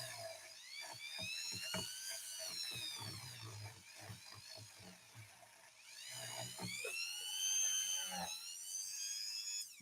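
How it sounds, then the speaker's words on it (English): A Dremel rotary tool with a bristle brush attachment whines steadily while cleaning inside a Singer 201-2 sewing machine. Its pitch wavers as the brush bites and eases, with soft scraping taps underneath, close up and continuous. "I'm changing the angle of the Dremel so that I can have a little bit more control over"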